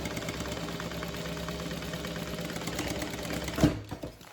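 A sewing machine stitches steadily through tape in the seam allowance of a handbag, its rapid mechanical chatter running evenly before a clunk and stop near the end.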